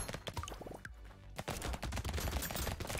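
Rapid SMG fire in the video game Brotato comes in dense overlapping bursts of sharp shots, loud and continuous with a brief pause near the middle, alone with no voice over it.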